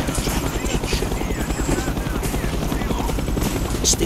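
A helicopter hovers overhead during the final mission of Call of Duty: Black Ops, its steady rotor chop filling the scene as a continuous loud drone.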